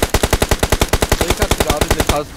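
Rapid automatic gunfire from the mobile battle-royale game PUBG Mobile, about twenty evenly spaced loud shots in a steady burst over two seconds, ending abruptly.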